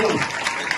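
A church crowd at a Pentecost service claps together in a dense, brief burst of applause welcoming a guest, with a voice speaking over it.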